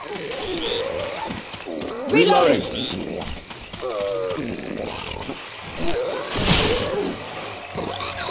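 Repeated loud bellowing roars from the Charger special infected in Left 4 Dead 2 on the Dark Carnival highway, rising in bursts over a busy wash of game noise while voices shout throughout.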